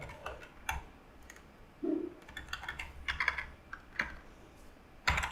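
A computer keyboard typing a terminal command, a short burst of light irregular clicks and taps up close in a quiet room, with no talking.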